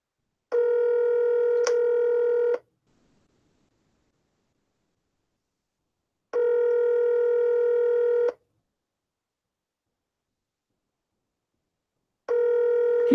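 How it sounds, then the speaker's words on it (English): Three long steady phone tones, each about two seconds, sound at regular intervals with silent gaps between them, loud and clear with no voices, as a call is placed to a yarn store. "I'm going to call him on the phone and see if he's up and running yet."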